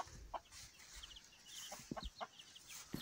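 Soft, intermittent clucks from a mother hen and short chirpy calls from her chicks close by, scattered irregularly over a quiet outdoor background.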